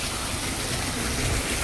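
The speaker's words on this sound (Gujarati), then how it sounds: "ફૂલ વરસાદ આવે છે" Heavy monsoon rain pours down in Junagadh, flooding a balcony and running off the road: a dense, steady roaring wash of water that holds an even loudness throughout, with no voices.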